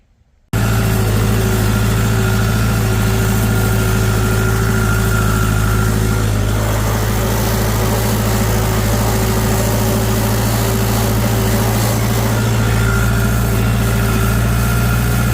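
A tractor engine runs steadily and loudly before ploughing with a used plough, a constant low rumble with a steady tonal drone throughout, no voices.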